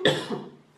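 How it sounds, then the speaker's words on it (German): A single short, sharp cough from a woman with a lingering cough, close to the microphone and followed by a brief fading rasp. "ich habe immer noch ein bisschen Husten"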